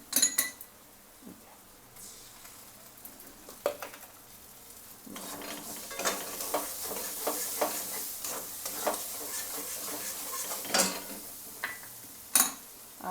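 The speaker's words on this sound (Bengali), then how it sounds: "পালং শাক বাটাটা দিয়ে দেবো।" Spinach paste goes into a hot pan for a Bengali paneer hariyali kofta gravy, frying with a loud spreading sizzle and repeated scraping stirs that rise in the second half, with occasional clinks of utensil on pan.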